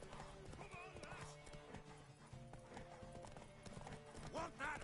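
Horse hooves clip-clop steadily in The Witcher 3, with a whinny near the end, under game music and a voice speaking.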